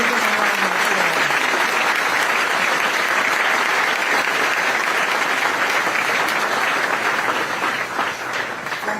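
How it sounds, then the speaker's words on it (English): Audience applause at a press conference introducing a new NC State men's basketball head coach, steady loud clapping from a large crowd lasting throughout and easing slightly at the end. "Give them a round of applause."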